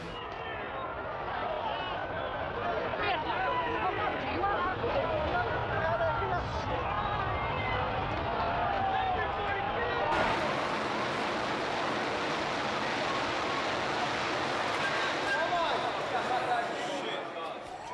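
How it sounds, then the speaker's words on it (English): Dense crowd hubbub and hurried movement of many people fleeing a dust cloud and falling debris after a building collapse in New York on 9/11, a loud continuous wash of noise that grows broader and harsher partway through. "The crowd started running north again, trying to escape the dust cloud and the falling debris"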